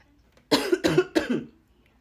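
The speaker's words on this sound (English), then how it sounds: "with me coughing" Three sharp, close coughs in quick succession, then quiet.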